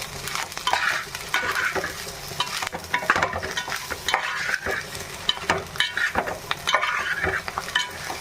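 Masala spices for an Andhra-style fish curry fry in oil with a busy, crackling sizzle. Stirring scrapes and clinks of a utensil against the pan come through close and fairly loud.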